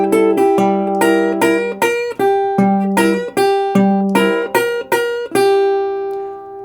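Delta blues slide guitar in open G tuning: a steady run of plucked, sliding notes with gliding pitches and ringing harmonics, ending on a long sustained chord, close and clear with no talking.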